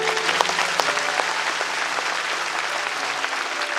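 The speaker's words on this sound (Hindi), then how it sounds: "तुम्हारे माँ बाप ने तुमको ताली बजाना नहीं सिखाया?" A crowd at a devotional discourse gathering claps steadily throughout, a dense and fairly close wash of applause with a few sharper individual claps, and no clear talk over it.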